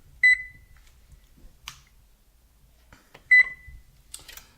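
Oven control panel chirping two short electronic beeps while being set to preheat, each a bright single tone separated by about three seconds, with faint kitchen handling noises between.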